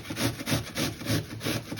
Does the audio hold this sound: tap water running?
no